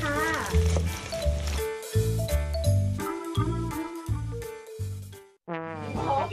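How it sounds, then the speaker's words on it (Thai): Hoy jo crab rolls deep-frying in hot oil over medium heat make a steady sizzle underneath a voice that talks almost continuously over it. "เวลาเราทอดในน้ำมันร้อนนะคะทอดด้วยไฟแรงปานกลาง"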